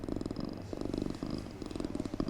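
A man imitates a cat's purr with his throat, a continuous rough rumbling vibration with rhythmic pulses, close and fairly loud, with no other talk.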